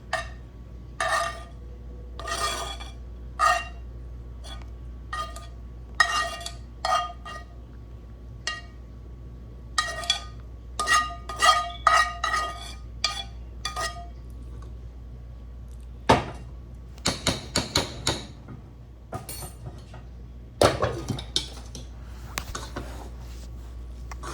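Ground hamburger stirred into jasmine rice in a pan, heard as scattered light scrapes and taps of a utensil against the pan at an uneven pace, close and fairly quiet, with no talking.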